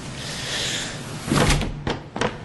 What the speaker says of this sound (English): Door. Don't look back.